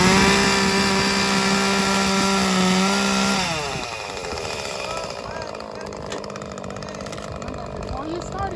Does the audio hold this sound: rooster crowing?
no